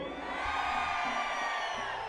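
Concert crowd at a merengue show in Santo Domingo shouting and cheering, a steady dense roar of many voices with whoops, loud and sustained throughout.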